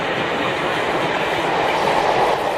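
A British Rail Class 40 diesel locomotive hauls a full grain train bound for the whisky industry in 1975, a steady, close rumble of engine and rolling wagons that holds constant and loud with no speech.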